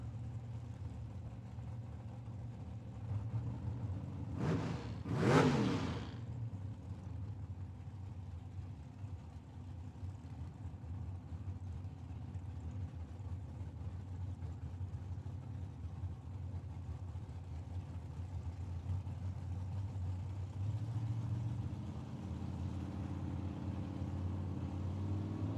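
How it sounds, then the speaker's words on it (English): A dragster and a Camaro at a drag race at Tucson Dragway: low engines rumble at idle for a long stretch, broken by one sudden roaring burst as the cars launch and pass, then the rumble returns. "Jimmy Kelso on the left-hand side in his dragster."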